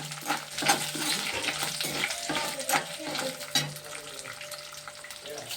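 Chana dal and urad dal sizzle and crackle in hot oil on low heat, with repeated stirring scrapes in an uneven rhythm, close and moderately loud, no talking.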